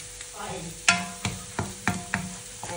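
Leftover rice with carrots is stir-fried in a pan, with a spatula scraping and knocking against the pan in a steady series of close strokes over a faint sizzle.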